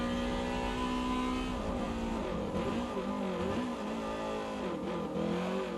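A naturally aspirated race car with about 240 horsepower revs hard in Forza 7 on the Top Gear test track, its engine note rising and falling steadily and loud throughout, with tires working through a turn.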